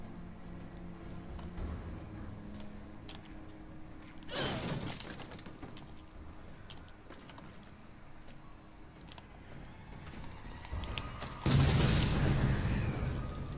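Bombs exploding in Resident Evil 7: a couple of heavy, booming blasts stand out from a rumbling game background, the last one loud and drawn out with a long roaring tail.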